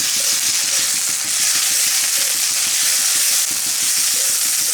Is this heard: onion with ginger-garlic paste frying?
yes